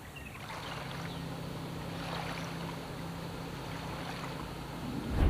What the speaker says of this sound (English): Listen to all those great morning sounds. Mornings at the lake are so peaceful.